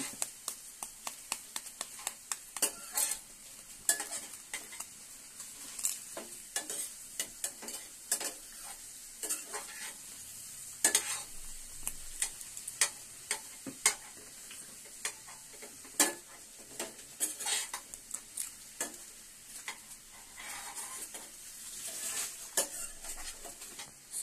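Eggs with sliced green chillies are stirred and mixed in a pan, a busy run of light scraping and clinking spoon-on-metal taps with a faint sizzle beneath, steady and close for the whole stretch.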